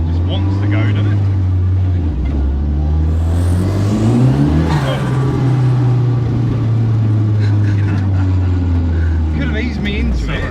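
A Mk2 Escort fitted with a 2.3 EcoBoost engine from a Mk3 Focus RS accelerates, a steady loud engine drone rising in pitch midway then holding, heard from inside with occasional talk over it.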